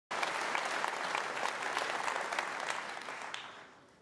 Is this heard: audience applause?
yes